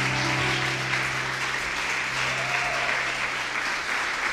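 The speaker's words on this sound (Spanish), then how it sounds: "Fuerte aplauso porque es para el Padre." A church congregation applauds loudly and steadily, a thick, sustained wall of clapping filling the hall, with a low humming tone underneath at the start.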